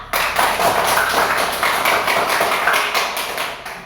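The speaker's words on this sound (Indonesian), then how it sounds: "mari kita beri tepuk tangan untuk teman-teman kelompok 3" A primary-school class applauds classmates from group 3: a burst of many hands clapping together, steady and fairly loud for about three seconds before fading out.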